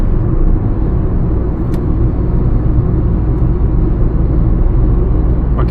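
Steady, loud road rumble and engine drone from a Peugeot car moving along a highway, with the engine pulling slightly harder as the throttle is eased on; a continuous close interior hum with no break.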